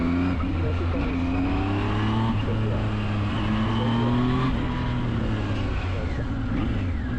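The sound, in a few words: Zontes 703F motorcycle engine responding to throttle in mode 1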